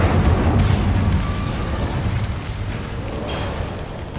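A fire spell cast in Hogwarts Legacy gives a loud, dense roaring burst with low rumble, starting strong and fading slightly into a sustained crackling whoosh.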